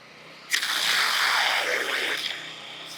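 A turbo nozzle's water jet switches on with a sudden hiss after a ball valve is opened, then sprays steadily into soil while digging a hole, a close rushing spray that fades slightly after two seconds.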